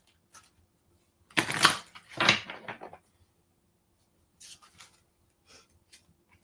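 Tarot cards are shuffled by hand in two brisk, crisp riffling bursts close up, followed by a few faint card taps and slides in otherwise quiet surroundings.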